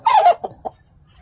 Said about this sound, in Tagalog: Ito yung mga pabo natin. Mga masisigla na.